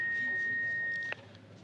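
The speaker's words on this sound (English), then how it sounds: "Wait for the beep." A steady electronic answering machine beep holds at one pitch for about a second and then cuts off sharply, leaving quiet room tone.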